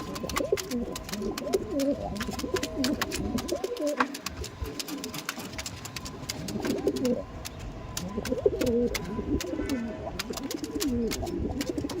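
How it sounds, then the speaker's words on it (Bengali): Pigeons coo in soft, repeated rolling calls, several birds close by, over a constant background of rapid ticking clicks and no talk. "পায়রাটা দেখুন, দেখছেন?"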